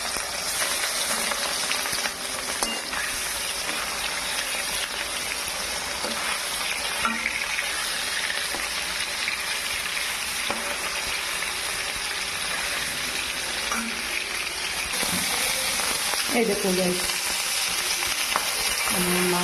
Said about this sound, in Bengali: আমি মাছ ছাড়ি দিব, মাছটারে বাজি লইমু।